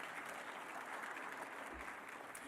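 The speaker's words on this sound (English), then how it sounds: "give a round of applause" An audience at an awards recognition lunch claps in a steady, even round of applause that is fairly faint and distant and continues through the whole short stretch.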